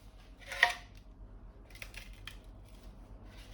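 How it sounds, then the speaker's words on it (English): Grit crackles as it is pressed into the carbon rim brake track of a Winspace Hyper wheel, in a faint sharp burst followed by a few quieter scattered crackles. "That cracking you're hearing is just grit on the ground being pressed into the brake track"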